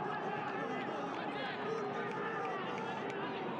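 Stadium crowd at a Honduras vs United States Olympic qualifying football match, a continuous distant murmur and hubbub of spectators reacting, with a commentator talking over it.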